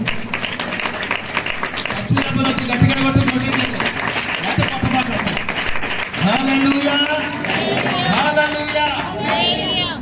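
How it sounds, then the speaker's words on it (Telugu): An Easter church congregation claps along, a dense crowd of hands mixed with loud singing and speaking voices throughout. "సంతోషంగా చప్పట్లు కొట్టి ప్రభు నామమున గణపరచు"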